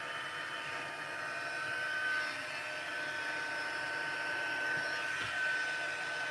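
A heat gun runs continuously for heat embossing, a steady whirring fan roar with a high whine, close and unbroken.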